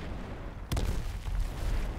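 A single explosion booms out partway through in the video game H1Z1 during artillery fire, a sharp crack followed by a rumbling low tail over a steady background.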